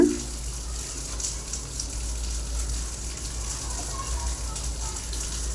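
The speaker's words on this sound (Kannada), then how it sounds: "ಕುದಿಸ್ಕೊಂಡಂಥ ನೀರು ಅದನ್ನು ಹಾಕೋರಿ, ವೇಸ್ಟ್ ಮಾಡಬೇಡ್ರಿ ಯಾವುದೂ" Boiled water from cooked greens being poured into a pot of saaru, a continuous close gushing pour heard steadily throughout.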